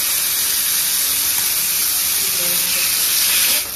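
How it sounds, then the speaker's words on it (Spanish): Meat searing in olive oil in a pot, giving a loud, steady, close sizzle and hiss that runs without a break and rises slightly near the end. "Esa carne está sellándose ahí de un lado"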